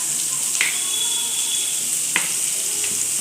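Sauce spooned into chilli cauliflower frying in a pan: a constant, even sizzle of hot oil with a few brief clinks or scrapes of a spoon.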